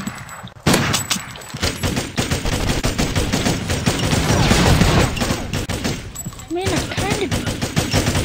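Rapid, sustained gunfire from the Pixel Fury video game, a dense rattling burst of shots running nearly the whole time at close, loud level, with a brief dip early on.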